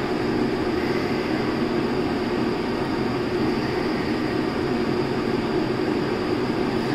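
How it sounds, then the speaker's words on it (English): A loud home heater runs steadily as a continuous broadband roar that fills the room, with no talking over it. "That noise you guys hear in the background is the heater right there."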